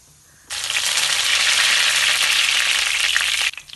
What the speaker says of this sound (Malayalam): ഒരു പാൻ വെച്ച് ഓയിൽ ഒഴിച്ച് 3 അല്ലി വേപ്പില ഇട്ട് കൊടുക്കാം